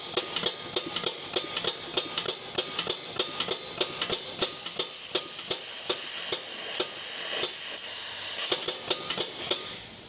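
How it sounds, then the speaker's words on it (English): A Graco Bulldog Therm-O-Flow hot melt transfer pump on a drum unloader runs with a steady hiss, punctuated by a regular train of sharp clicks or thumps from the pump cycling, close and loud, with no talking. "Stop it right there and then turn on the pump."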